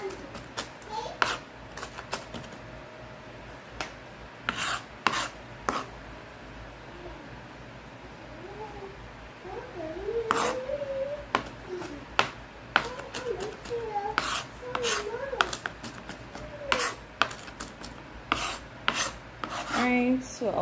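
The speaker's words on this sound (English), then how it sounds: "I'm gonna bring back in the shadow benny, and I'm just gonna cut it up" A knife chops shadow benny (culantro) finer on a board, giving soft, irregular taps and scraping that come close and fairly quiet over about twenty seconds, with faint voices in the background.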